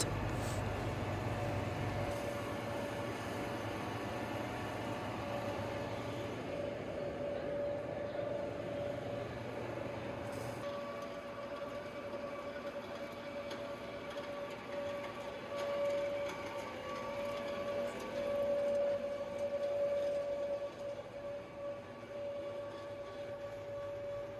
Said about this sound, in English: 1 ton per hour pellet machine using sawdust raw material.